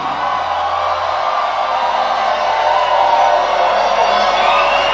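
Church congregation at a prophetic service screaming and cheering in a loud, sustained wall of crowd noise that swells slightly toward the end, with no clear speech on top.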